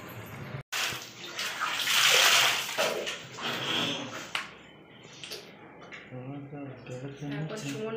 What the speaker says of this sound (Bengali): এখন সুমন মাংসটা ধুয়ে দিচ্ছে